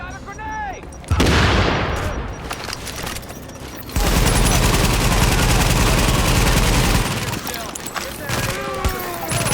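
A grenade explosion and heavy gunfire in Tom Clancy's The Division, a loud blast followed by sustained rattling shots, with voices calling out at points.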